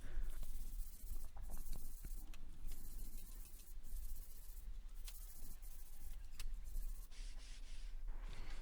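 Hand sanding of a pallet wood coat rack with 240 grit sandpaper, a faint continuous scratchy rubbing with repeated strokes, close up and without voices.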